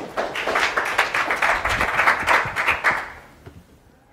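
An audience at a storage developer conference applauds after a talk on container storage, a steady burst of many hands clapping for about three seconds before tapering off.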